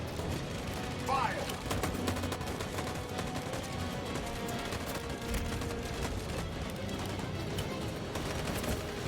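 Sustained gunfire volley in the video game Detroit: Become Human, a dense, continuous crackle of many rifles firing at once, steady and fairly distant, with a brief voice-like sound early on.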